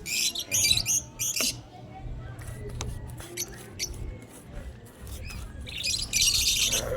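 Pet birds kept in a small cage near a house roof being painted, giving close, shrill bursts of chirping and squawking that come and go over a low steady background hum.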